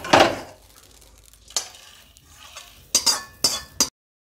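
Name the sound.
roasting poppy seeds with coriander and cloves in pan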